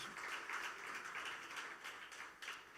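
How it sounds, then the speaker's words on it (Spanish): A church congregation claps together in a soft, even patter of applause heard from a distance, with no talk over it. "dale un aplauso al Señor Jesús"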